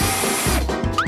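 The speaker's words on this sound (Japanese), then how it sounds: "トウモロコシをドリルにつけるわよ。" A handheld power drill whirs steadily with a corn cob mounted on it in a kitchen, the motor loud and close before it briefly dips and then surges back up.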